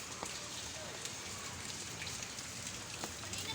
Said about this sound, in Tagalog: Yan, umuulan na.